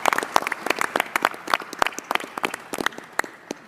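Brief burst of applause from a small crowd, quick irregular clapping that stays fairly even in loudness for a few seconds.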